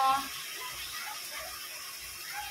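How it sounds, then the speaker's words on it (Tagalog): A soft, steady trickle of water pours into a cooking pot of chicken adobo, gentle and continuous at close range. "Lagyan natin kunting tubig kasi pampalambot."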